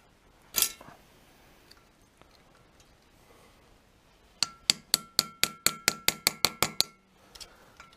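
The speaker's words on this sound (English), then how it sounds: "we're going into the aluminium with a punch" A metal punch hammered into the aluminium of a Norton motorcycle cylinder head with a broken spark plug: one sharp strike early, then a quick run of about thirteen ringing, evenly spaced blows, close and crisp, with no talk.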